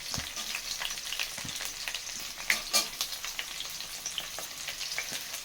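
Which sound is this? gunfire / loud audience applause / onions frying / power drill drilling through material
onions frying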